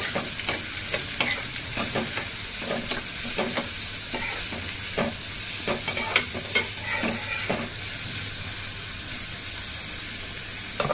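Chopped onion frying in a pan until pink, with a steady close sizzle broken by repeated spatula stirring scrapes and taps in an uneven rhythm.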